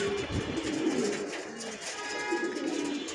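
Pigeon cooing from a female pigeon being released during a 25 km open-side pigeon racing tournament, soft steady calls repeating over a close, continuous background of other birds.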